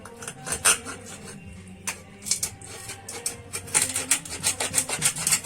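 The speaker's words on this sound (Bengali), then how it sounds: "মাছটা কাটতে খুব অসুবিধাই হচ্ছে" A one-kilogram kalbaush fish is cut on a boti blade at home, with close, uneven rasping and scraping strokes that come in irregular bursts and grow denser toward the end.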